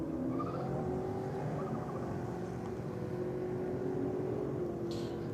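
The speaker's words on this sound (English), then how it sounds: "A Mustang away so cleanly." A Ford Mustang drag car launches off the start line at a drag race, a steady heavy engine roar heard from some distance, moderately faint and continuous.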